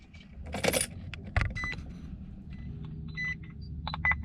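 A car key is turned in the ignition to the on position, with keys jangling and clinking close by, a sharp click, and a few short electronic chimes from the dashboard afterward.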